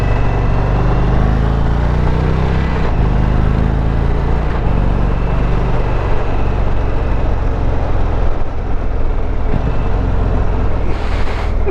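An Indian Roadmaster belt-drive bagger motorcycle cruises along, its steady, loud engine drone blended with constant wind rush across the microphone, without pause and with no voices.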